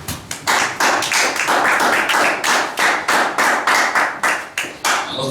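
A church congregation claps in praise during a French worship service, a steady run of rhythmic handclaps with pulsing swells, loud and near, with no talk over it.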